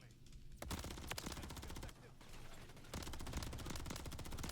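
Rapid gunfire in the shooter game Call of Duty: Modern Warfare 3 (beta), dense bursts of close shots with sharp cracks and a brief lull, loud and continuous.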